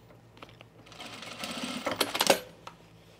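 A sewing machine stitches men's chino pants, its presser foot bobbing up and down in short bursts that build into a louder, quicker run of stitching before stopping, close by.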